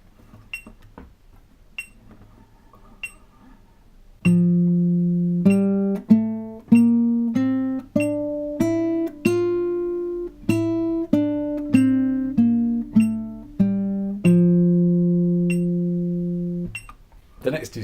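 A beginner's guitar scale picked slowly and evenly at 48 beats a minute, single plucked notes stepping upward and back down, the first and last held longer than the rest, clear and close with no talking.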